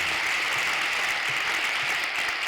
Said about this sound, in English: So you can clap if you want, that'd be cool.